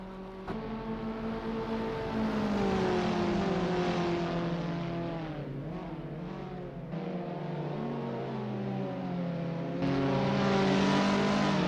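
Abarth 500 race cars at the Pau circuit in Assetto Corsa, a loud buzzing engine note climbing and falling through gear changes, with a brief dip as revs drop before surging again.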